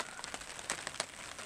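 Rain patters on a tarp sheltering a campsite at Cauliflower Lake in Algonquin in August, with scattered drops tapping nearby over a soft, steady hiss. No voices are heard.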